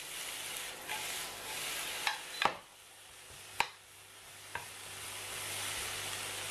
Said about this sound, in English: Followed by 1 minced garlic. Give it a swirl and a toss.